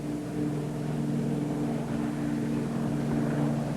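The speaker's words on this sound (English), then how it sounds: "After a short run, the plane takes off easily" Convair liner airliner taking off after a short run: a loud, continuous propeller drone with a steady low hum, holding at an even level throughout.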